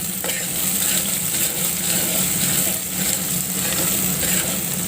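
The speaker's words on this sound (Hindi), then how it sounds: "अब डालूंगी इसमें प्याज, प्याज को पहले ब्राउन ब्राउन कर लेती हूँ।" Onions frying in a pan as they turn brown, a steady close sizzle with faint stirring scrapes running without a break and no voices.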